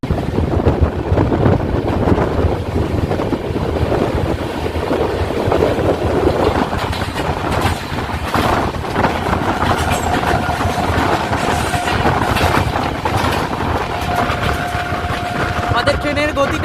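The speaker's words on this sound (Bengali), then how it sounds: "ট্রেনের গতি কিছুটা কম হবে এবার আস্তে আস্তে" Purbanchal Express train running on the line and easing its speed, a loud, continuous rumble of wheels on rails with rhythmic clatter from inside the carriage and a faint tonal whine later on.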